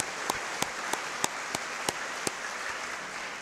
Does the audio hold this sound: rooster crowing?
no